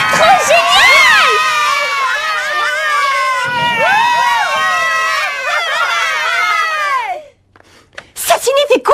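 A crowd of children shouts and cheers loudly together, excited overlapping voices rising and falling for several seconds before breaking off into near silence, then a few sharp cries return.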